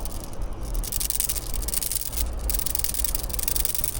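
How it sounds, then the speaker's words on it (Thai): Sandpaper rubbed back and forth over a woven waist piece, a steady close abrasive scraping hiss that runs without a break and carries a low rumble underneath. "ตรงไหนมันจะขาดเดี๋ยวก็เอากระดาษทรายถูเอา"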